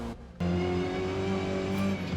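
Race car engine in Forza Motorsport driving in heavy rain, a steady loud engine drone holding a constant pitch after a brief dip at the start, with no talking.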